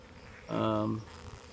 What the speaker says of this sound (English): these bees are just out gathering nectar